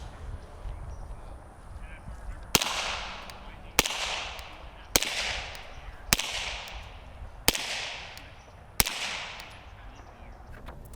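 Six suppressed shots from a Commander-size 2011 pistol with an OSS RAD-45 titanium and stainless suppressor firing Federal HST 147 grain rounds, evenly spaced sharp cracks at roughly one-second intervals, each trailing off in a short echo outdoors.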